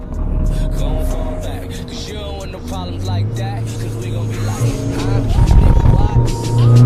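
Turbocharged Isuzu D-Max 1.9 pickup driving at high speed on a race track, a steady loud engine and road roar heard from inside the cab as someone talks over it.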